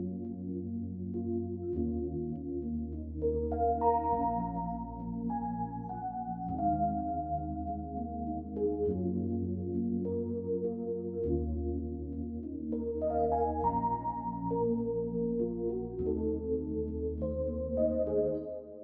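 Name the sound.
layered R&B melody on EP New York City electric piano, Analog Lab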